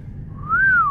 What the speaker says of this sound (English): his whistle was spot on, though